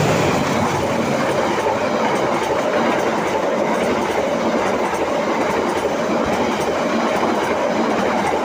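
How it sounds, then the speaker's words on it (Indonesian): An Argo Wilis passenger train races past at high speed near Gedebage, heading for Bandung station. Its loud, steady rumble and clickety-clack of wheels fill the whole stretch close by, with no talking. "Itulah Argo Wilis dengan kecepatan tinggi meluncur menuju stasiun Bandung"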